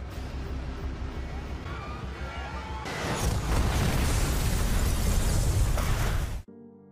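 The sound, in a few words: explosion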